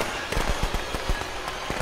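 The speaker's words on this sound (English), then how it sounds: "That's some firecrackers" Firecrackers go off in the Friday the 13th video game as a rapid run of sharp, crackling pops, about a dozen bursts in under two seconds, close and fairly loud.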